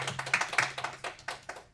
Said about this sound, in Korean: 우리 더 나누는 교회 성도들을 향해 환영의 박수를 드리겠습니다